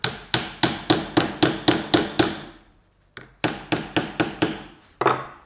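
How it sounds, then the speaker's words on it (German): Hammer striking a screw into a wooden round-rod joining jig in rapid, even blows, two runs of about seven to eight sharp knocks separated by a short pause and then a final hit, loud and close, with no talking. "Und jetzt schlagen wir nur noch die Schraube rein."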